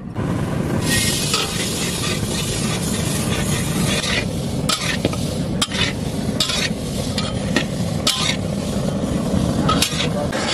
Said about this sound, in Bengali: তাই মুগ ডালটাকে প্রথমে ভেজে নেব।